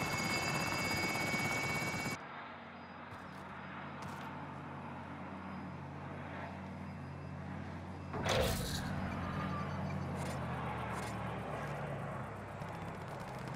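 Helicopter rotor noise in the Warzone battle royale game runs continuously, loud at first, then a sudden cut to a softer steady drone, broken by a sharp burst partway through.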